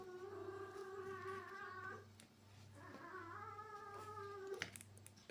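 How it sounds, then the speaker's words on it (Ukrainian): A house cat purrs close by in a steady, pulsing low rumble, with drawn-out whiny meow-like tones rising over it twice. "Це мене кицька тут мурчить."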